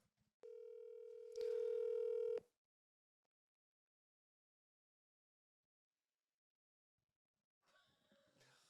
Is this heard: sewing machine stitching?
no